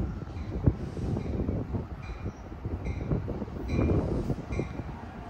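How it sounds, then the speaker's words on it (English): An Amtrak Capital Corridor passenger train, cab car leading, pulls into Richmond station with a steady rolling rumble and some clanks. It stays close and moderately loud throughout, with no talking. "here comes Amtrak, Capital Corridor Train 534"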